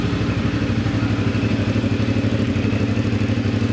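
A CF Moto 450 SR motorcycle runs steadily at idle with its radiator fan whirring, a continuous loud mechanical drone with a faint rhythmic flutter and no pauses.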